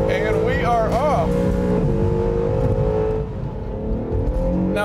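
A Honda NSX hybrid sports car launches hard from launch control, its engine roaring loudly up through the revs in one close, sustained surge, with someone talking over the start.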